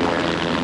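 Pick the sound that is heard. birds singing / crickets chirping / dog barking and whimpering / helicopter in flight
helicopter in flight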